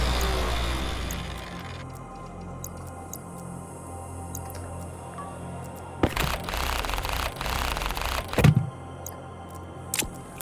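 An angle grinder deconstructing an object in Stationeers buzzes in short, harsh bursts near the end, preceded by clicks and quiet mechanical clatter over a low hum.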